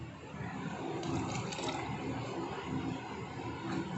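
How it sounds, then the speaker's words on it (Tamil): A pot of sambar bubbling and simmering steadily up close, a continuous soft gurgling hiss with no voices. "சாம்பார் கொதிச்சு கொண்டே இருக்கு."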